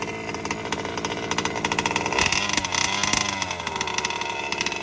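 A 32cc piston-port two-stroke engine on a motorized bike revving up from idle, a loud close buzzing drone that climbs in pitch midway and holds at high RPM.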